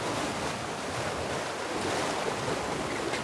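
Steady, broadband rushing of strong wind mixed with surf on the Atlantic coast at Les Sables d'Olonne, France, a constant roar without pauses and no voices.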